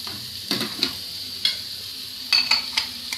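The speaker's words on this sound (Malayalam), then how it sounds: "ഇനി ആ എണ്ണയിലേക്ക് തന്നെ ഒരു സവാള മുറിച്ച് വെച്ചത്" Sliced onion drops into hot oil left from frying chicken for a Kerala chicken kondattam, bringing a soft sizzle under sharp intermittent clinks and scrapes of a stirring spoon against the pan, close by.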